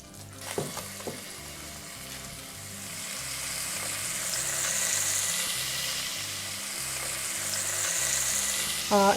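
Pork ribs fry in hot oil in a pan, a continuous close sizzle that swells and fades, with a few clinks near the start and end and no talking.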